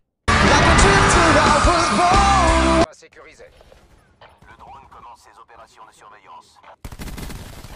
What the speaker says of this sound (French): Grenade à dispersion